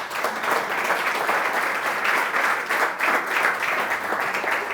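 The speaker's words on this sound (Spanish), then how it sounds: "Dale un aplauso a Dios" A church congregation breaks into strong, sustained applause, a thick continuous roar of many hands clapping together, loud and close.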